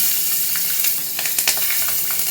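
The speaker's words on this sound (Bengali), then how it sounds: "ওই যে মাছ ভাজা অলরেডি হয়ে গেছে আরও চলছে মাছ ভাজা এই যে মা এবার কালো জিরে দেবে তেলে চলে যাচ্ছে কালো জিরে" Fish and nigella seeds fry in hot oil, a close, bright hiss with small pops and crackles over a short stretch, no speech.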